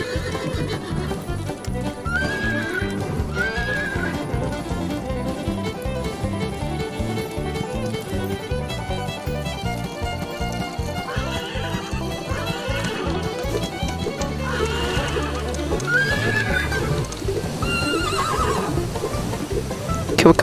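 Horse galloping across a wild west video game world, with repeated whinnies and neighs rising over a steady, loud rhythmic hoofbeat and game music.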